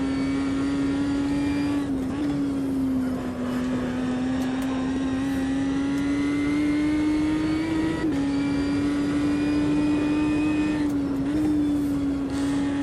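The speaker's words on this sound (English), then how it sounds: "it does sound like the engine's sort of struggling a bit to get up to" A race car engine in the Automobilista 2 racing game holds a loud, steady high drone with small pitch dips, sounding strained as it climbs slowly toward speed, with no talking.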